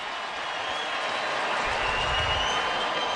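A large stadium crowd applauds and roars for Dallas Cowboys players standing on the field, a steady dense wash of clapping and cheering that swells briefly near the end.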